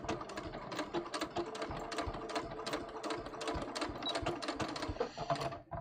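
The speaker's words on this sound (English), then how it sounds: "We're going to stitch just inside the stitching on the end to hold these triangles down." A sewing machine stitches through a linen knit shorts pocket bag, a fast, steady rattling run of needle strokes with brief pauses, close and continuous.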